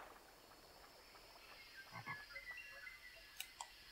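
A toad croaks in the Avatar: The Last Airbender video game: a few faint, short calls around the middle and near the end, over a quiet ambient background with no talking.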